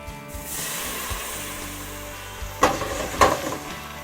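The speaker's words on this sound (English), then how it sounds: "because the pan is so hot, it immediately boils" Beef stock hits a very hot pan to deglaze it, giving a hissing boil and sizzle that fades slightly, then two sharp bursts of scraping or splashing near the end.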